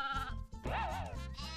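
Sheep in the video game Croc give a short wavering bleat, loud and close, over background game music.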